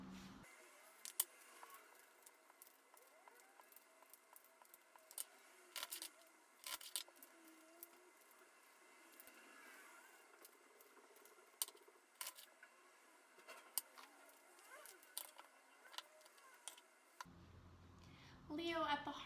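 Tarot cards are shuffled by hand, giving scattered crisp riffles and sharp taps close up over near silence, with a burst of louder handling at the end.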